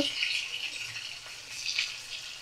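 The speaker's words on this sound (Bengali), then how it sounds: "সুজিটা করে নিই। এটা একটু ভাজা হবে" Semolina frying in a pan, a faint steady hiss and light sizzle close by, continuous without talk.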